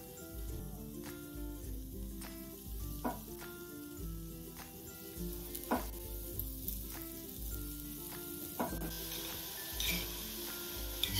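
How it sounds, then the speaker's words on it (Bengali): Besan fuluri batter fries in hot oil, a soft steady sizzle punctuated by irregular bursts of bubbling and crackle as batter drops in, quiet and close with no voices. "তেলটা গরম হয়ে যাবে পুরো ব্যাটারটা গুলে নিয়ে শুধু দিয়ে দিতে হবে"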